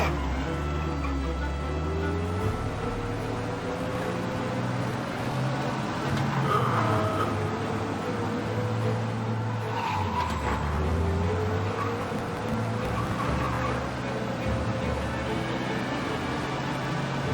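A car races at speed through a police chase in the video game Mafia Definitive Edition, with engine roar rising and falling and occasional tire skids. A game soundtrack plays underneath throughout.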